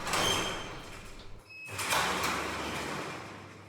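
A Glidermatic GTS garage door opener driving the door, a continuous close mechanical rumble and sliding roll that briefly cuts out, then resumes and carries on steadily.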